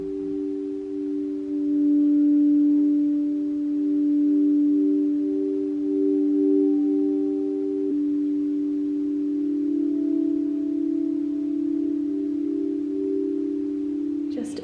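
Sustained layered tones from a sound healing session ring steadily at moderate volume, a low drone with soft overtones shifting midway and a brief bright strike near the end.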